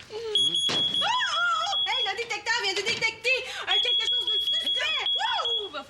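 A smoke detector beeps repeatedly while its battery is changed indoors, giving sharp, high chirps in short bursts under lively overlapping talk.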